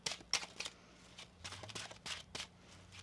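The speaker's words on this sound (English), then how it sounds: "One more shuffle." Tarot cards being shuffled by hand: quiet, close riffling bursts and soft flicks come in irregular clusters, with brief pauses between handfuls of the deck.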